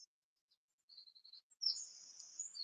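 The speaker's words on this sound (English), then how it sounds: "I'm just listening to the birds." Faint high-pitched bird chirps and trills in a quiet setting, a short thin call followed by a longer warbling phrase.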